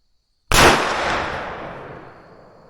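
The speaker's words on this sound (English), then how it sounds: "I'm going to take a third shot and see if it's on the center." A muzzleloader rifle fires a single loud, close shot on an outdoor shooting range, its sharp crack followed by a long, slowly fading rumble and echo.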